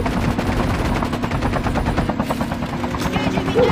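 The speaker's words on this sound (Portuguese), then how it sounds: "Muito tiro." Rapid bursts of video game gunfire crackle continuously, automatic weapons firing in dense rattling volleys at close range.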